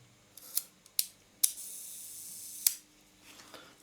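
The Copal-MXV leaf shutter of a Yashica-Mat TLR camera fires at a one-second speed. Several sharp mechanical clicks sound up close, and a one-second gap of faint whirring escapement buzz separates the opening and closing snaps.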